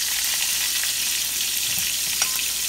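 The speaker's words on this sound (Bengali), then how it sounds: "সে আলুটা এখন ভাজছি" Potato pieces fry in hot oil in a pan, giving a steady, close hiss of sizzling with faint stirring clicks and no talk.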